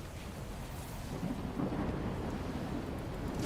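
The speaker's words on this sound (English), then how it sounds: "is that just the sound of lightning?" Thunder rumbles in a video game, a low, rolling roar that swells and stays steady for a few seconds, with a soft rain-like hiss layered in.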